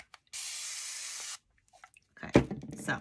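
A spray bottle gives one steady burst of alcohol onto acrylic marker paint on metal, lasting about a second and followed by faint drips. A voice then speaks close by.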